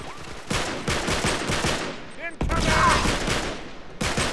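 Rapid gunfire in the video game Uncharted 3, a dense run of sharp shots that keeps going with no break, loud and close, with a voice talking underneath in places.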